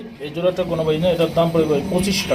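Large male king pigeon cooing in repeated throaty warbles close by, partly under someone talking over it.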